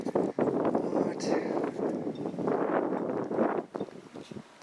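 Outdoor wind buffets a microphone in a loud, low, rumbling roar that swells and dips over a few seconds, with a voice partly mixed into the noise.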